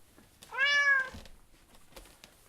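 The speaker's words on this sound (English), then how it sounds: "We have a cat on the runway." A house cat gives one clear, close meow lasting about half a second, followed by soft thuds and quiet room noise.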